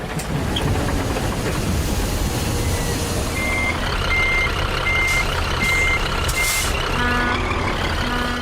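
A truck maneuvering in the Scania Truck Driving Simulator video game, its engine rumbling and air brakes hissing, then a regular reversing beep repeating steadily in the second half, loud and close.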